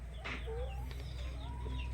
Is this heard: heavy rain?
no